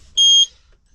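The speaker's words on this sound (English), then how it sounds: "Yep, and that's the alarm that sounds." Engine guard gauge alarm in a 1987 Mitsubishi Montero sounds a single short, loud, pure electronic beep of about a quarter second when the key is turned on, alone in near silence.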